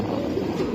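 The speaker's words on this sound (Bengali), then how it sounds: "একেবারে বুট ঠোঁটের তোতা কবুতর।" A brief, soft low coo from a boot-beaked Tota Giribaz pigeon, murmuring steadily for under a second at close range with no talk.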